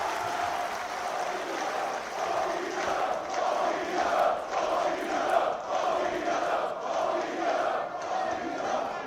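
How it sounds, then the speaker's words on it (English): A wrestling crowd at a 1PW singles match roars and chants in sustained waves, a dense, reverberant swell of voices rising and falling over several seconds. "Crowd coming alive here for Will Ospreay and 1PW as a whole"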